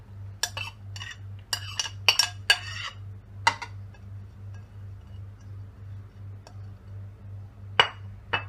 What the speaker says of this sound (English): first into the bowl I am going to add onions and coriander.